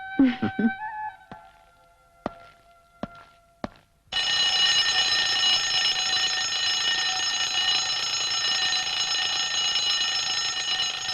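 An alarm clock rings continuously and loudly for about seven seconds, a bright steady electronic jangle, after a few sharp isolated clicks and knocks in a quiet room.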